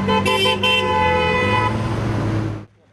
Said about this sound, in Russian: Проезжающие мимо автовладельцы поддержали инициативу сигналами клаксона.